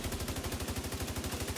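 Rapid automatic gunfire in The Division 2 during a raid, a steady unbroken stream of close, loud shots with no talk over it.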